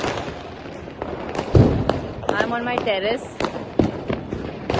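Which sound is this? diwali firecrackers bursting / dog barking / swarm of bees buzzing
diwali firecrackers bursting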